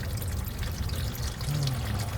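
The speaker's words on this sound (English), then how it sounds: "It's already dripping" Milky, contaminated transmission fluid from a Ford F-350 pours and trickles in a steady close stream, continuous with no pauses, with no talking.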